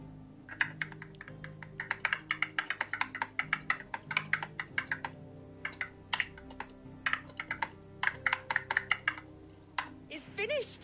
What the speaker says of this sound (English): here's what a ceramic spacebar sounds like